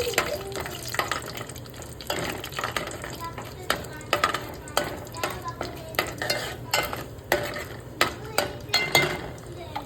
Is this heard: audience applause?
no